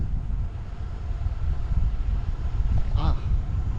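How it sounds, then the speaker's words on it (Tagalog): Strong headwind rushes and buffets against the microphone in a low, continuous roar during a solo ride in Gangwon-do, South Korea, with a brief voice-like sound near the end. "Headwind."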